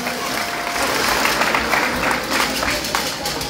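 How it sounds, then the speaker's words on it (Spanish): A crowd applauds at a political party committee swearing-in ceremony, with a dense, steady patter of many hands clapping at a moderate distance and faint voices mixed in. "Un aplauso, por favor, que se escuche"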